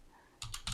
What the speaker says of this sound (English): LibreOffice kind of understands that you're typing in a date